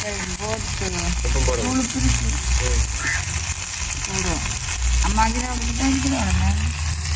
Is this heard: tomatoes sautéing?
yes